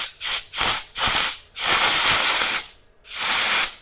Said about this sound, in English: Let's see real quick if we hit this with compressed air.